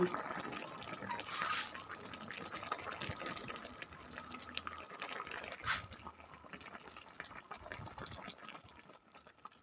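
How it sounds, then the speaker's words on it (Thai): Water is poured into a Thai sand fish jungle curry, giving a quiet, close liquid splashing and dripping that trails off over several seconds, with a faint voice in the background. "ก็จะใส่น้ำโรยน้ำตาล"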